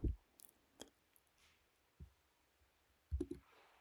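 Computer mouse clicks while selecting a transition in Canva: a few sharp, isolated clicks spaced irregularly, close and quiet, with near silence between them.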